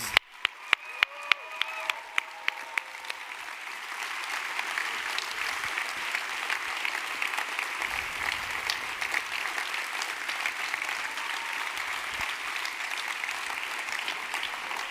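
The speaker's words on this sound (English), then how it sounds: "A thunder of applause." Sustained audience applause at a closing ceremony, opening with a few sharp individual claps and swelling into a dense, steady wash of clapping that carries through to the end, with faint voices underneath.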